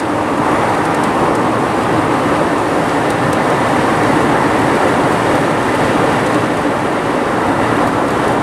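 A Montana Rail Link freight train passes near Thompson Falls, Montana, a loud, steady, broad rumble and roar that holds unbroken throughout.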